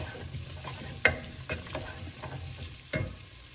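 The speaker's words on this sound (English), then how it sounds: "And this doesn't have to saute that long." Vegetables sauteing in a pan for chicken noodle soup, a low steady sizzle with a few quick stirring scrapes and taps, close and fairly quiet, with no voices.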